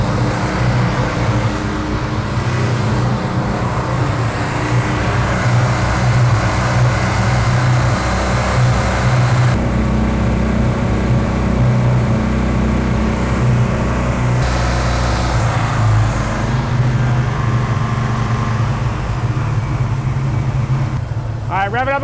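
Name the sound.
muscle car engine revving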